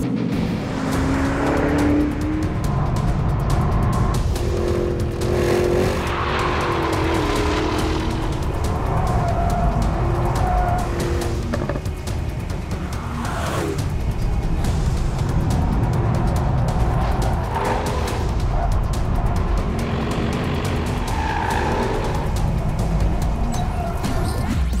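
A Porsche Cayenne laps the Nürburgring Nordschleife at speed, its engine roaring steadily and loud throughout, pitch rising and falling through gear changes and fast turns, with some tire noise and no talk.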